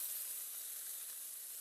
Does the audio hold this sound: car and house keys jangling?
no